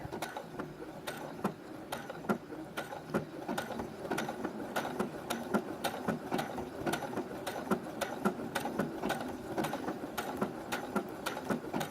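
A sewing machine runs steadily, stitching an appliqué blanket stitch on a flag-star quilt. Fast, even mechanical clicking and whirring continues for the whole stretch, close by, with no voices.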